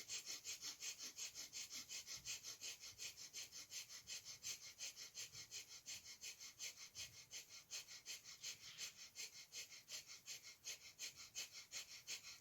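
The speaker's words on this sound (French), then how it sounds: "vous commencez cette respiration puissante" Rapid, forceful rhythmic breaths of a kapalabhati-style fire breathing exercise, steady sharp exhales pulsing about three times per second for the whole stretch, close and continuous with no talking.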